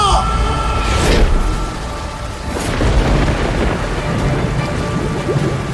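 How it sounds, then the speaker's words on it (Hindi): Loud thunder crackles twice over steady heavy rain in a dramatized Hindi audio story, sharp bursts rising out of a constant wet roar with low rumbling beneath, no voices. "अचानक जोर की बिजली कड़की"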